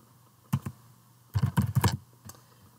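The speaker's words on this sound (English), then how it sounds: "I'm going to type in building" Fingers type a word on a computer keyboard: a short, close run of clicking keystrokes, two quick taps followed by a denser cluster and one final key press, in a quiet room.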